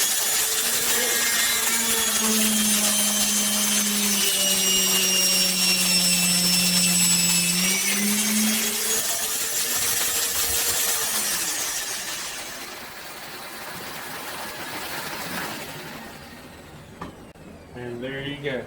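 Doweling machine boring holes with a dust collector running, a loud sustained whine and hum that shifts pitch midway, then winds down into quieter clatter; someone talks over parts of it.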